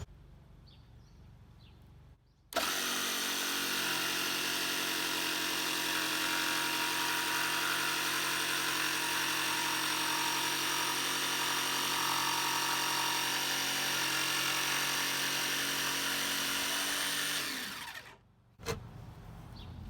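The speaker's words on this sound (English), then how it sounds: "Always make sure that the saw comes to a complete stop before you remove it" A power saw whines loudly and steadily for about fifteen seconds while cutting plywood decking for a backyard playground, starting abruptly and winding down at the end, with no talk over it.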